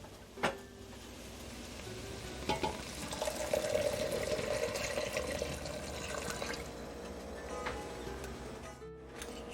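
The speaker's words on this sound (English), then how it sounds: "Now I'm going to add my water." Water poured steadily into a pot of bacon, sausage and bean soup, a continuous splashing pour lasting several seconds with a few sharper knocks at the start, close and fairly loud, no talking.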